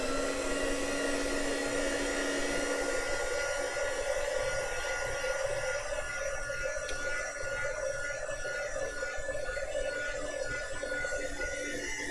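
Hair dryer blowing over a piece of craft work, a loud, steady, close airy whine that holds constant throughout with no voices.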